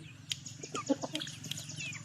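A Burmese game rooster moves about nearby, giving scattered short clucks and calls with a brief flutter of wings over a low steady background hum.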